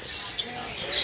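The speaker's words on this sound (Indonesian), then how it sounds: "Itu Sri Gunting abu-abu ya. Anakan." A young grey drongo chirps at a bird market kiosk, high thin calls repeating close by over busy market background noise.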